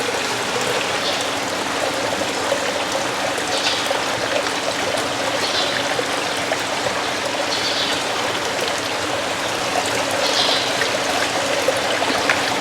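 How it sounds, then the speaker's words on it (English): Water flows and trickles steadily through tilapia egg hatchery tumblers, a constant close splashing wash with faint periodic gurgling surges. "what these tumblers do is mimic the movement of the water through the mouth of the mummy"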